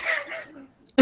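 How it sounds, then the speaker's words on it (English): A person coughs after smoking, with one hoarse, breathy cough trailing off, a brief pause, then a sharp, loud second cough up close. "Coughing like a newbie."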